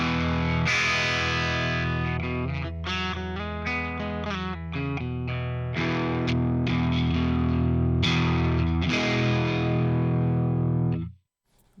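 Crunchy distorted electric guitar tone, the first of three drive levels, played as a riff of chugged chords and short bursts for about eleven seconds before cutting off abruptly, loud and alone.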